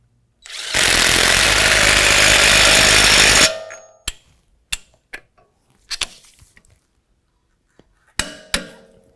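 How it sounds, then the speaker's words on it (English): A wrench tightens the axle nut on a 2019 GMC Sierra 1500 during a coilover lift kit install: a loud, sustained mechanical burst of about three seconds, then a series of sharp, separate metallic clanks. "Now I'm going to go ahead and tighten up my axle nut first with this, then I'll snug it down to 177 foot-pounds with my torque wrench."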